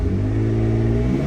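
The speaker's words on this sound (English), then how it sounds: "we got a little goose out of it when we hit the accelerator" A 1991 Dodge Stealth R/T twin turbo engine idles loud and close, giving a brief rev with a steady rumbling growl.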